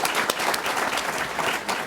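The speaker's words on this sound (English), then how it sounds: "Okay, round of applause for" Audience applause at a panel event on school funding, a full, continuous burst of many people clapping, loud and even, with no talking over it.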